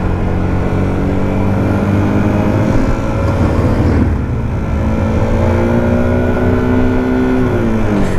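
A Yamaha MT 125 motorcycle accelerating hard from a pull away, loud and close, its engine note rising through the revs, dipping briefly at a gear change, then climbing again.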